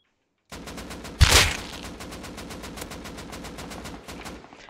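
Rust video game gunfire, a rapid automatic stream of evenly spaced shots with one loud heavy blast near the start, continuing steadily at close range with no talk.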